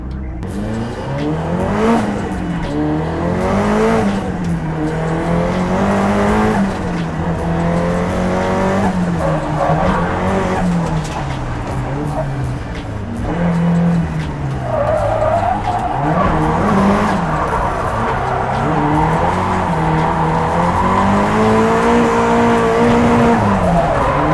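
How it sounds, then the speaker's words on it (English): A 450 bhp Nissan 180SX drift car's engine revs and drones continuously with wavering pitch as tires squeal and skid on a track, loud and close throughout. "get a run just to make sure everything is bolted together"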